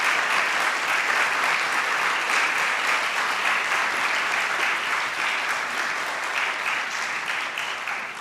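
A church congregation applauds steadily for several seconds, dense and loud, tapering slightly toward the end, with no voices over it.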